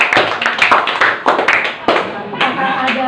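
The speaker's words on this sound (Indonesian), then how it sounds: "Kita berikan tepuk tangan untuk kelompok" Classmates clap for a presenting group in a classroom, a small number of hands giving loose, uneven bursts of claps with distinct individual slaps and short gaps, fairly close and loud.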